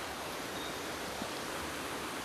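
Water of a village stream flowing beneath a bridge, a steady broadband rush that stays even and unbroken throughout, with no voices over it.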